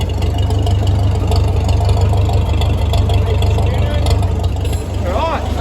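A grey Ferguson tractor running a Howard rotary hoe with the blade engaged and spinning, giving a steady, loud low engine drone with mechanical clatter that holds throughout.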